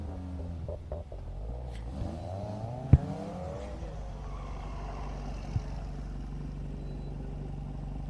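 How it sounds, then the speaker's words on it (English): A Subaru WRX launches at an autocross event at St. Lucie Fairgrounds, its engine rumbling low and steady as it accelerates, heard from a distance with a brief sharp knock partway through. "we're going to go ahead and launch Nicholas Trabulski in a WRX"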